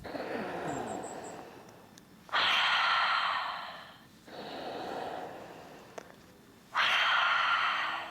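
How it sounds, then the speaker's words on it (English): Deep yoga breathing, three long forceful breaths through the nose and mouth, close and loud, alternating slow rushing inhales with breathy exhales in a steady rhythm. "So inhaling, exhaling, inhale, exhale"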